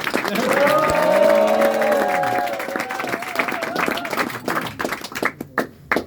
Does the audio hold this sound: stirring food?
no